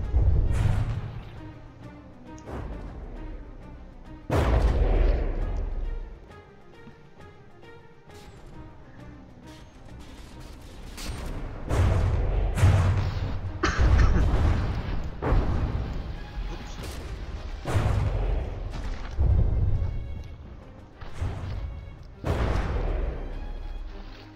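Heavy naval guns fire from warships in a From the Depths tournament battle, a series of loud booming blasts spaced irregularly with rumbling between them, some shots overlapping in quick clusters.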